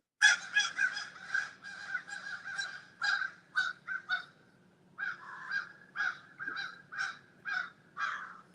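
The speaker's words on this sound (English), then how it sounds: "Frank, can you hear those crows in the background, Frank?" Crows caw repeatedly in a rough, rhythmic series of harsh calls with short gaps, moderately loud over a faint low hum, no speech.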